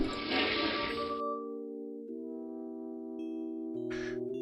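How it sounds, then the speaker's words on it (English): A portable toilet flushes in the video game Day of the Tentacle, a loud rushing, gushing burst of water lasting about a second, then sustained tones of game music. "it has that awesome flushing sound every time"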